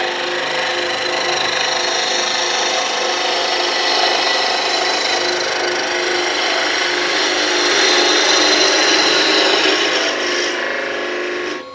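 A woodturning tool cuts into spinning wood on a lathe while shaping a kitchen roll holder, making a steady close rasping, shaving hiss that holds for several seconds and then stops abruptly at the end.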